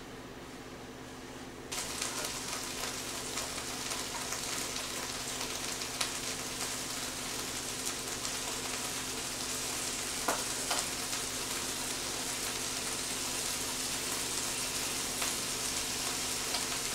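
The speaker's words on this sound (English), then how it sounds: "we're going to go ahead and start cooking our vegetables" Onions and vegetables frying for Cajun rice and gravy, a loud continuous sizzle that bursts up suddenly as they hit the hot pan and then holds steady, with occasional stirring clicks.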